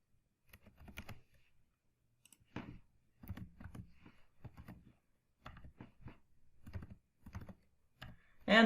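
Clusters of soft keystrokes on a computer keyboard as JavaScript code is typed, short bursts separated by brief pauses, closely recorded, ending with a sharper key press.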